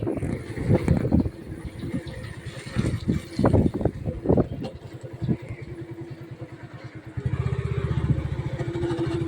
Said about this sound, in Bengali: কি সাহস, বাইক চালাচ্ছে তাও কোনো ভয় নেই।